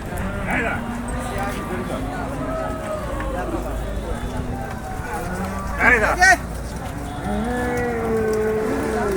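Cattle moo repeatedly amid a noisy crowd at a livestock market before Eid al-Adha, with people talking throughout and a brief louder burst of voices midway.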